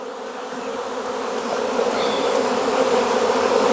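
Honeybees buzz steadily and loudly, a dense swarm-like drone during a July hive inspection and treatment, building slightly in intensity throughout.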